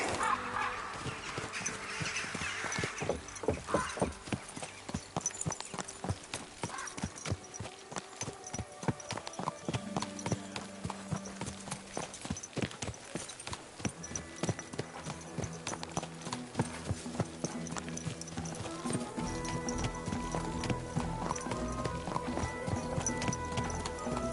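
Steady clip-clopping horse hooves on a hard surface, close and continuous, with occasional creaks and faint background noise throughout.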